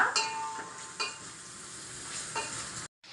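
A pan of buttermilk curry base fries gently on a low flame, giving a soft, even sizzle with a few spoon scrapes, close by, before cutting to a brief silence at the end.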